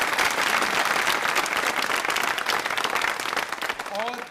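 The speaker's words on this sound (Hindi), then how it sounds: "तालियां जोरों से बजाइए और संकल्पित होइए।" Steady applause from a large audience at a televised quiz show on literacy, dense clapping sustained throughout and tapering slightly near the end.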